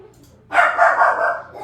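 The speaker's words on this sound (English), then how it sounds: "You know what she's barking at, right?" A dog barks loudly and close in a home kitchen, setting off at a washing machine with one sustained, rough bark-whine that trails off, after a quiet start.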